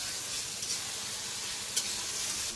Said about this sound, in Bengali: দই কাতলার মশলা কষা হচ্ছে এখন